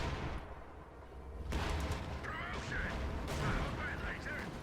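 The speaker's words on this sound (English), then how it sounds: "own artillery being called in at this sector" Artillery barrage in the Company of Heroes 2 strategy game, with heavy booming impacts bursting in twice over a dense rumbling battle din, loud and sustained, while a voice talks over it.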